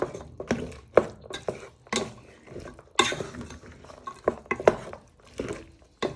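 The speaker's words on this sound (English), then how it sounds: "And you give that a bit of a stir." Beef in black bean sauce stirred around a pan, with a series of irregular scraping and clanking utensil strokes against the pan, close and moderately loud, with short pauses between strokes.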